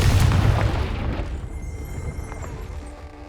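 A Confringo fire spell explodes in Hogwarts Legacy, a loud, deep boom that hits at once and then rolls off into a fading rumble.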